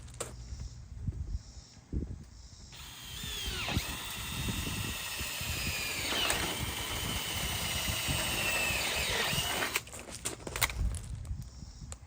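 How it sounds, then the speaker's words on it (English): A power drill whirs steadily for several seconds, its pitch dipping as the bit bites through a patio umbrella mount, with clicks and handling noise before and after. "I'm gonna drill a hole through this"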